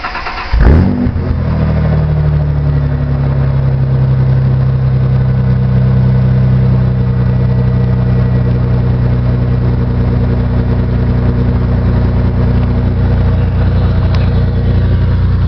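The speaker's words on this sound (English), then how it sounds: "First startup of the day. It doesn't give too much, but it does give it a tuned sound to it." A tuned car engine cold-starts with a brief crank and catch, then settles into a steady, loud, rumbling idle close by that holds even for the rest of the run.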